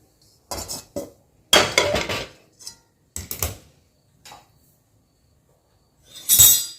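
Roasted millet is scraped out of a pan into another vessel, with separate bursts of metal utensils clinking and scraping against cookware, split by short silences, no voices.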